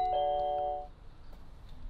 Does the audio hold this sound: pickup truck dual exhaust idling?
no